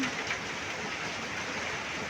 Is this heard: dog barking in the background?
no